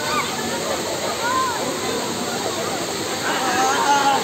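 Water flows at Bato Spring in San Pablo, Laguna, a steady rushing and splashing that continues throughout with a slight swell near the end, while voices talk over it.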